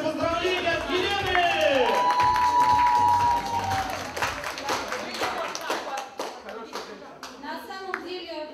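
A crowd claps steadily at a school graduation while a voice talks over it, the applause thinning into scattered claps toward the end.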